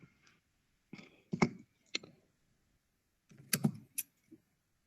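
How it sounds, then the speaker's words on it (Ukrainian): A handheld lighter being flicked several times to light a candle, producing clusters of close, sharp clicks and small rattles separated by short pauses. "Підпалюємо свічку користуємося запальнички"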